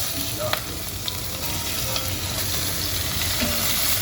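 Meat sizzles steadily in a hot pan for a Turkish dry bean stew, a constant close frying hiss with faint occasional clinks and no talk.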